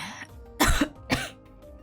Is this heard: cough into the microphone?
yes